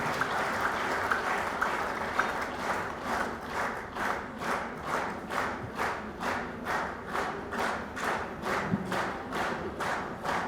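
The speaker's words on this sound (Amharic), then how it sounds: "ጭብጨባው" An audience at the Adwa Awards ceremony claps together in a steady rhythmic beat, loud and close, the unison clapping keeping an even pulse throughout.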